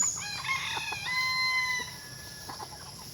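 A rooster crows loudly and close among farm fowl (ducks, turkeys and chickens) on a rural provincial farm, the crow carried over steady clucking and flock chatter with no voices.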